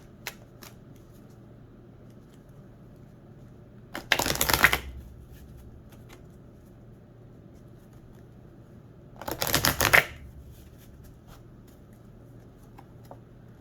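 Oracle cards being shuffled in two short riffling bursts several seconds apart, close and crisp against an otherwise quiet room.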